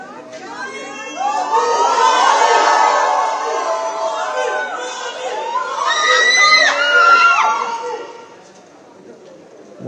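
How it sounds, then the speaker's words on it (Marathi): A crowd at a hotel welcoming Team India shouts and cheers loudly in shrill, overlapping voices, swelling twice and then fading toward the end. "मोठा जल्लोष सध्या या हॉटेलमध्ये देखील पाहायला मिळतो आहे"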